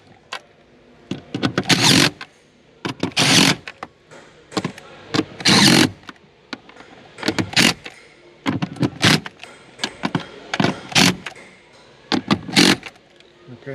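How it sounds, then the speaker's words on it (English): Impact gun loosening bolts on a 2021 Genesis GV80 during a steering shaft replacement: loud, close bursts of rattling hammering, each about a second long, separated by short pauses. "Just use your impact gun."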